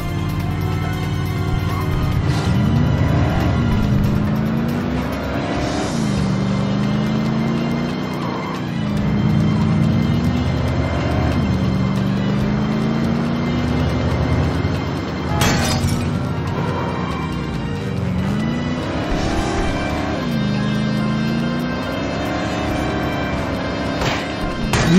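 A car engine in The Godfather: The Game, revving and shifting as the vehicle drives through city streets, steady loud motor drone with rising and falling pitch, a siren-like wail briefly audible.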